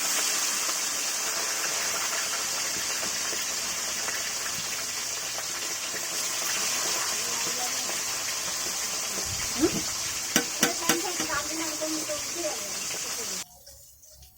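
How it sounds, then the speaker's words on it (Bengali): Tilapia fish frying in hot oil in a wok, a constant bright sizzle and hiss throughout, with a few sharp pops and spatters near the end before it cuts off. "এবার মাছটা কড়াইয়ের মধ্যে ছেড়ে দিচ্ছি একটা"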